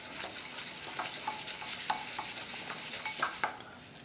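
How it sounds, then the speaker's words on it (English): Honey treat ingredients for hamsters being stirred in a bowl, with steady scraping and soft clinks of a utensil against the bowl over several seconds, close and moderately loud, with no talking. "Now add your tablespoon or so of and mix thoroughly again."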